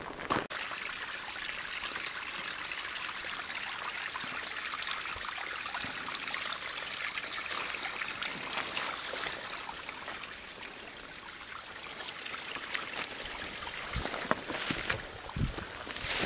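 A mountain stream flowing steadily on a trail near a river fork, its continuous rushing and trickling water close and alone for the whole stretch, with a few brief louder splashes near the end.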